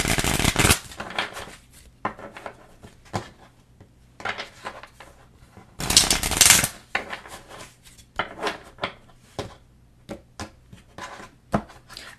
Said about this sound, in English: I am going to clarify some of these cards, but with an oracle